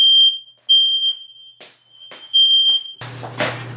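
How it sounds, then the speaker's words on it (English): An indoor smoke alarm shrills in long piercing beeps, three sustained tones broken by short gaps, set off by a heat gun warming racquet pallets, before a burst of rustling handling noise at the end. "I guess the smoke alarm didn't like that."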